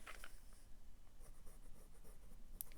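A Pilot fountain pen nib writes on smooth Tomoe River paper in quiet, close scratches and soft strokes that run continuously, with a brief sharp tick near the end.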